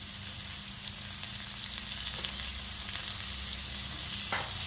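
Tomato, green chilli and onion sautéing in a pan for chicken varuval, a steady dense sizzle close by with a faint utensil tap near the end.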